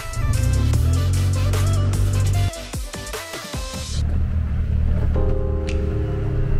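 An E-Z-GO RXV EX-1 gas golf car drives with a steady, close engine hum and low rumble that drops briefly midway and then picks back up.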